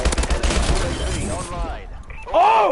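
Gunfire in an online shooter video game, a rapid burst of loud shots in the first moments fading out, with a player's voice exclaiming under and after it.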